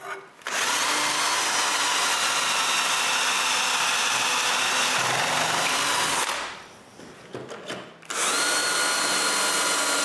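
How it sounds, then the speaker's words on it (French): A power drill bores dowel holes in wood, whining loudly and steadily up close, then stops briefly around the middle and starts again for a final run. "Marquer leur centre, puis percer les trous de goujon."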